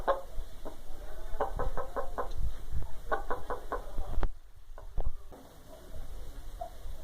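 A young rooster of about five months clucks in repeated short bursts, fairly close and clear against outdoor background noise, with a brief quieter gap near the end.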